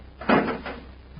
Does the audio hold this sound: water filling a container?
no